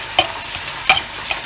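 Instant noodles for pad thai are stirred in a pan, with a few quick scraping, splashing strokes spaced apart over a soft sizzle, close and alone.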